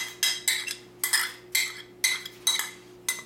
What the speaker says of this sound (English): And then I'm going to stir that around.